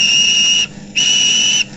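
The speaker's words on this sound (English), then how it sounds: "One morning, he whistled to Gordon." A small steam engine's whistle sounds two loud, clear blasts, the first about two-thirds of a second long, then a short gap and a longer second blast.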